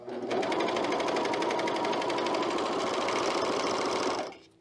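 A sewing machine runs in one steady, fast continuous burst while stitching elastic onto a top, then stops near the end; no talking.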